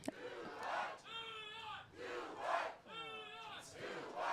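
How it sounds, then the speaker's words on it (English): A New York crowd at an ultimate frisbee game cheers and chants in loud rhythmic bursts, several swelling waves of voices rising and falling in turn, fairly distant and echoing as in an open stadium. "The New York crowd really getting into it."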